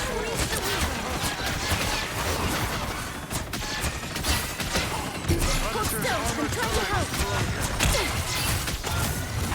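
Rapid turret gunfire rattles on without a break in a hero shooter video game, with dense bursts of shots, crashes and effects layered over one another and voices talking underneath.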